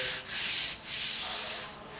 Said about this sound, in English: There's a sweet spot to sanding body filler.